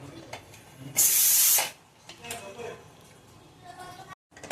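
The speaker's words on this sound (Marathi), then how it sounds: "ऑलमोस्ट आता आपण शिटीची वाफी गेली, आपण आता कुकरला ओपन करूया." Steam from a pressure cooker used for cooking rice pulao, bursting out in one loud, sharp hiss lasting about half a second, then fading away amid faint kitchen sounds.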